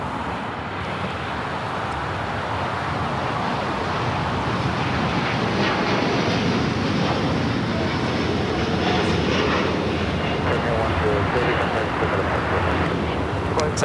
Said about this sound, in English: Air Premia heading back to Seoul on that Dreamliner